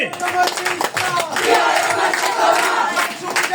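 A crowd at a political rally in Bangladesh claps and shouts in a dense, continuous wave of applause and cheering, loud and close.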